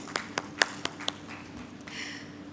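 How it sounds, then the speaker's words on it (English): A handful of distinct claps from a sparse audience after a speaker at a Latin America business event, about six separate sharp hand claps in quick succession, fairly faint over a low room hum. "Huge round of applause,"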